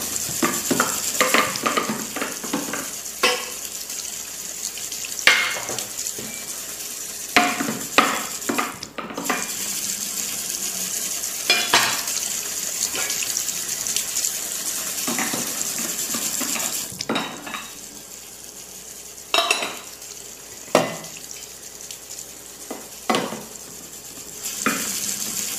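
Kitchen tap running into a new cooking pot while it is washed, a continuous rushing hiss broken by repeated clanks and sloshing bursts of water, with no speech.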